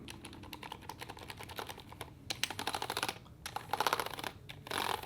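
Keys on a DIY mechanical keyboard fitted with Cherry MX2A silent red linear switches, typed in quick, uneven bursts of soft, muted clacks with brief pauses between runs and a few louder strokes near the end.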